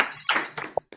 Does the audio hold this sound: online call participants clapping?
yes